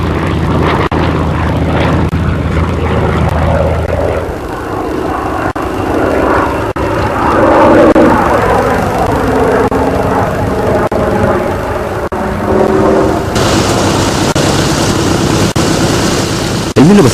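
A restored Grumman Avenger, a World War II torpedo bomber, running its propeller engine with a loud, steady, droning roar that stays close throughout, and a few short surges toward the end.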